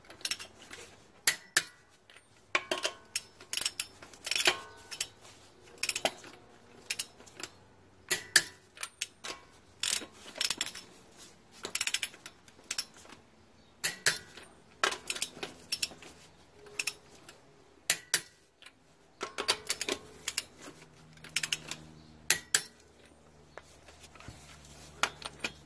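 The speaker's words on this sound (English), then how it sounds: "we want to torque the wheels" Lug nuts on a 2015-2018 Ford Mustang EcoBoost wheel being tightened with a torque wrench, repeated short ratcheting clicks and metallic clatters in uneven bursts, close, with quiet gaps between them.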